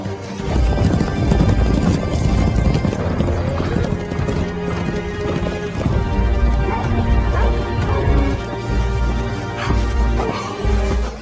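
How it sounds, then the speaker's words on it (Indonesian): Horses gallop hard in a film chase scene set during American slavery, loud clip-clopping hooves driving steadily under dense soundtrack music, with scattered whinnies and crashes throughout. "menunggangi kuda."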